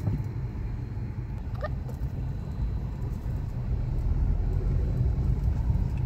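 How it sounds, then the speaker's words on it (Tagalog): A heavy traffic jam on the CALAX expressway during payday long-weekend rush hour, heard as a dense, continuous engine and road rumble that swells slightly toward the end, with no talking. "Buhol-buhol ang traffic."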